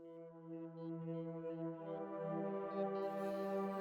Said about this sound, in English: This is a Juno patch here.